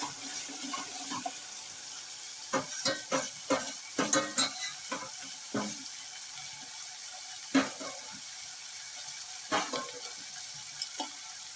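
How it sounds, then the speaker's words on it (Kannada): Semolina roasts in a pan for upma, stirred again and again with a spoon, giving clusters of sharp scraping taps over a faint dry hiss, close and fairly quiet, no talking. "ಅದು ಹೊಟ್ಟಲಾರ್ದಂಗೆ ಪದೇ ಪದೇ ಕೈ ಆಡಿಸ್ತಾ ಇರೋಣ."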